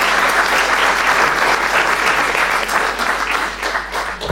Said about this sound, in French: On vous applaudit vivement par rapport à cette intervention.